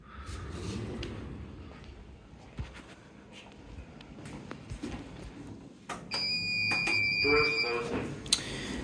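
A 2023 Kone Liftronic traction lift at a university building sounds its electronic chime near the end: a few clear, ringing tones after a stretch of quiet lobby noise and shuffling.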